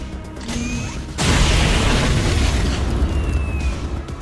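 Weapon fire at a mech in the video game XCOM 2, a loud booming blast that erupts after a brief lead-in and sustains a heavy rumbling roar to the end, with no voices.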